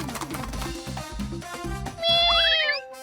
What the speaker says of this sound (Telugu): పిల్లి అడ్డుగా వెళుతోందేంటి?